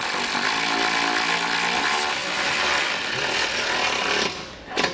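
Loud, steady power tool whir running continuously while tightening a bolt on a hidden trailer hitch receiver on a 2016 Volkswagen, easing off briefly before a short burst at the end.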